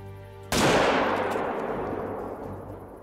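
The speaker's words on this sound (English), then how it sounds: "That shot felt good." A single loud rifle shot fired while hunting cape buffalo in the video game Call of the Wild, a sharp crack followed by a long rolling echo that fades slowly, with no talk.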